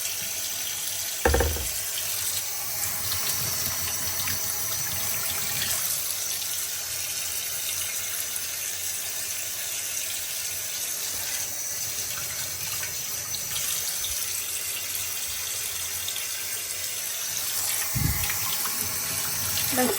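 A tap runs steadily into a sink for the whole stretch while someone washes their face, the water's hiss broken only by a couple of brief knocks.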